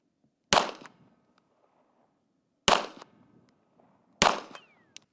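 A pistol fitted with a red dot sight fires three sharp, loud gunshots at a target, spaced about two seconds apart, each ending in a short ringing tail with quiet between them.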